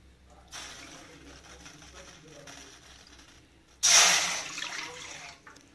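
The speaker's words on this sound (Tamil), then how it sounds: "நம்ம இந்த கப் அளவுக்கு 2 கப்பு தண்ணி ஊற்றிக்கலாம்." Water pours in a short splashing burst into a pot near the end, two cups for cooking one cup of rice, after a stretch of quiet kitchen background noise.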